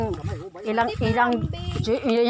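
Goats bleat on a farm, their wavering calls mixed in with close, continuous conversation between people.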